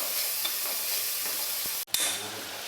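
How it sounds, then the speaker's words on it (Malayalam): Chopped onion sautés in a pan for chicken curry, a constant close hiss and sizzle with a brief dip near the end before the frying noise resumes. "കൂടെ തന്നെ ഒരു സവാള അരിഞ്ഞത് ചേർക്കാം. ഇനി ഇത് നന്നായിട്ട് വഴറ്റിയെടുക്കാം."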